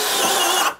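DongCheng DCJZ2040i13 cordless brushless impact drill running in drilling mode at speed 2, a loud steady motor whir that cuts off abruptly near the end of a brief burst.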